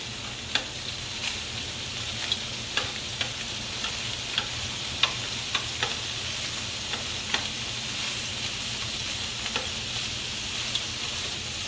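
Sausage browning in a frying pan, a steady close sizzle that runs throughout, with sharp little pops and ticks scattered over it and no talking.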